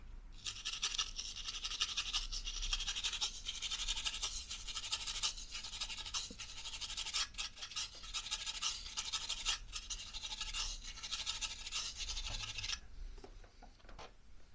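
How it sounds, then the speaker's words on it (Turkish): Steady bristly scratching and rubbing, like a brush sweeping dust from a laptop, continuous for about twelve seconds before stopping abruptly into quiet. "iki fırça alıyoruz havayı basıyoruz gidiyor"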